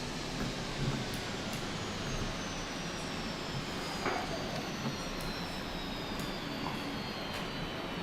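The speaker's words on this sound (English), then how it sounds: "engine number 2. Let's hear it shut down." IAE jet engine number 2 of a Fenix A320 airliner spooling down in a flight simulator, a broad steady roar with a faintly descending whine, no talk over it.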